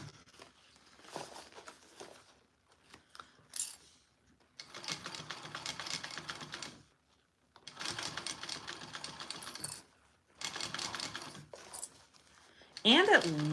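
A sewing machine stitches a Sue Sue sling in several short runs of quick, light rattling, stopping and starting between bursts, with talking in the gaps.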